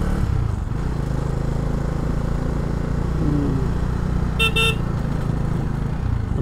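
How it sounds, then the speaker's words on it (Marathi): A steady engine drone rumbles on a rough ghat road near Kasmal, Pen, during a bike ride. Near the end a short, bright horn toot sounds once above it. "फक्त हॉर्न मारत या. ब्लाइंड स्पॉट्स आहेत सगळे."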